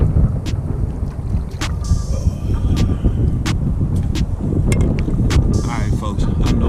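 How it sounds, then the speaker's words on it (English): Strong wind buffeting a microphone beside the Trinity River in Fort Worth, Texas, during spring trout fishing; a steady loud low rumble with gusty rustling throughout, plus occasional sharp clicks and handling knocks. "I know the audio's not that good because of the wind and all that."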